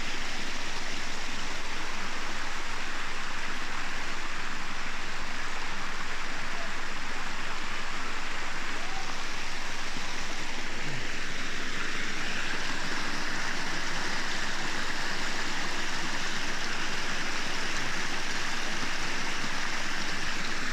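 A waterfall and flowing stream in Lebanon give a steady, dense rush of water that continues unbroken for the whole stretch, full and close, with no voices.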